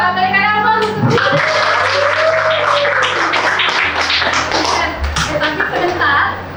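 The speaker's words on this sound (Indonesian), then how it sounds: "Iya, berikan aplaus untuk dia." A classroom claps for a student, a dense burst of applause mixed with children's voices and chatter, loud and close, continuing steadily for several seconds.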